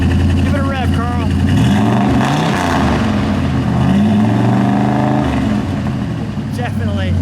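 A 1969 Dodge Dart Swinger with a 340 V8 revs up and settles in a loud, close, throaty roar that rises and falls for several seconds, with brief voices heard near the start and end.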